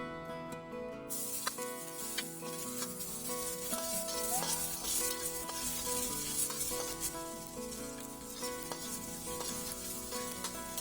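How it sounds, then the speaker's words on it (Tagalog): Onion and garlic sauté in hot oil in a pan for pancit, a steady close sizzle and hiss running throughout alongside bright tonal music. "Igisa lang natin yung ating sibuyas at bawang."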